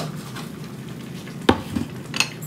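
Stirring eggplant and chickpeas with spices in a pan, soft scraping and sizzling with a couple of sharper utensil clinks against the pan, close and fairly quiet.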